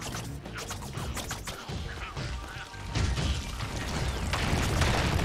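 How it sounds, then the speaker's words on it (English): Game explosions boom and crash in rapid succession, with heavy thuds and clattering impacts building louder toward the end. "lots of explosions"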